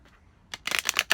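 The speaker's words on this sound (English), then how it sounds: "I'll just kind of shuffle until it feels good" A deck of tarot cards is shuffled by hand in quick, close riffling bursts that start after a quiet moment and grow into a dense flutter.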